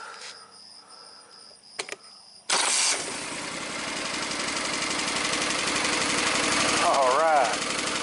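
A two-cylinder Kohler Command small engine, just fitted with a new ignition coil, cranks and catches abruptly, then runs loud and steady at close range with a slight tapping, with faint sounds beforehand.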